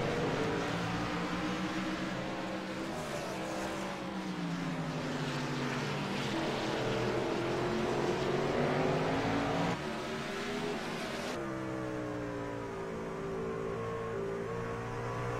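Race cars lap a track with loud, continuous engine roar, pitch rising and falling as cars pass close by and others follow, without a break.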